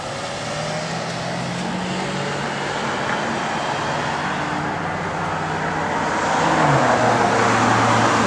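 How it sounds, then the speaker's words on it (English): A 1965 Chevrolet Malibu with a Flowmaster dual exhaust, H-pipe and removable dumps idles steadily nearby with a low rumble, its engine note rising slightly toward the end. "It's got a good sounding Flowmaster dual exhaust system in its H-pipe."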